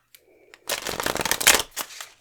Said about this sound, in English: I'm going to shuffle first.